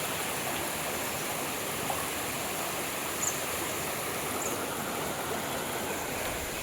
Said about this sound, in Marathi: पर्याला पाणी सुटलेलं आहे मस्तपैकी.